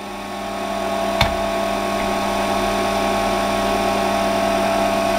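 A metal lathe running steadily with a loud constant motor hum and tonal whine while centre drilling a tap handle blank, with a brief sharp click early on and no speech.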